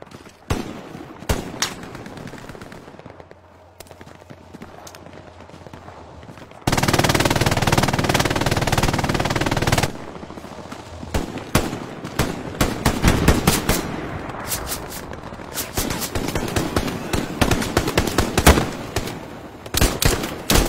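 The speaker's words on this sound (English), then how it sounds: "that means there's a machine gun in here" Rapid bursts of machine gun fire in a war video game crackle in dense, irregular volleys, with a sustained louder stretch of continuous shooting in the middle before scattered shots and bursts resume.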